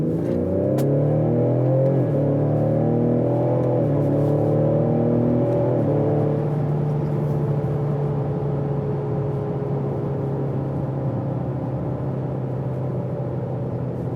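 A 2020 Ford Explorer ST accelerates hard in manual mode using the paddle shifters, the engine note climbing and dropping through several quick gear changes before settling into a steady, loud cruising drone.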